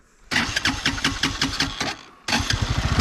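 A race car's engine cranks in a rapid chugging burst, catches briefly, then fades before a second close, loud cranking run begins at a rally-type track event.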